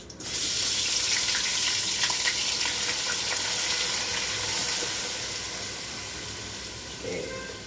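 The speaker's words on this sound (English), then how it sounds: "So next I'll be adding in will be my blended ginger, garlic and onions." Blended ginger, garlic and onions hit a hot cooking pot and sizzle steadily, a loud bright hiss that fades slightly as it settles, with a brief clatter near the end.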